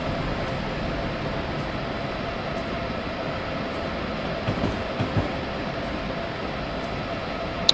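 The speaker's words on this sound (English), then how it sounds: "we're going over the track just fine, I believe" An Amtrak passenger train in the Train Simulator 2015 video game runs steadily over track across a bridge, giving a continuous low rumble with faint rhythmic clicks and no pauses.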